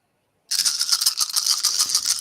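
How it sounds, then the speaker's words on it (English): A handful of about a dozen tabletop game dice are thrown and clatter in a sudden burst of dense rattling that carries on steadily for nearly two seconds, close by. "I'll go ahead and throw that ugly dice too"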